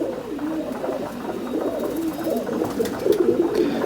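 A pet pigeon kept by a Jammu pigeon keeper coos in repeated throaty, rolling phrases, close and clear against a steady background hum, with no talking.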